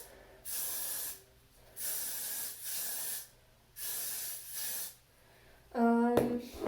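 Hairspray from an aerosol can misted onto hair while styling a mohawk, five or six steady close hissing bursts of about a second each with short gaps, followed by a brief clatter.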